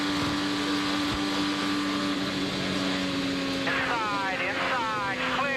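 Onboard IndyCar engine at the 2013 Indianapolis 500, a loud continuous high-pitched drone with wavering tones as the car runs, with a voice briefly audible over it.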